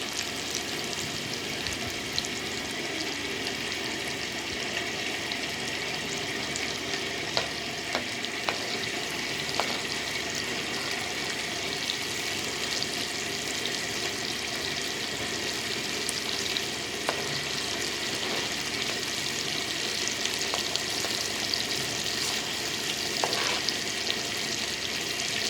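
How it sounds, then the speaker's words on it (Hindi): Fish pieces frying in hot oil, a dense, loud, unbroken hiss and crackle that holds steady throughout, with occasional faint pops and no voices. "अभी इनको हम यहाँ पे फ्राई करेंगे"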